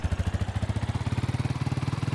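A dirt bike engine sound plays while riding in a Minecraft mod, a fast regular putter with rapid, even low pulses that holds steady and close, with no voices.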